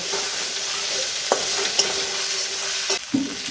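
Chili paste, ginger paste and spices are stirred in a sizzling pan for green jackfruit kofta, with a steady hot frying hiss and a few soft spoon scrapes, close up with no talking.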